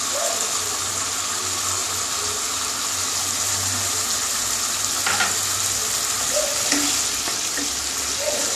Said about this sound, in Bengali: এবারে চাল ভিজেটা ওটা দিয়ে দিচ্ছি।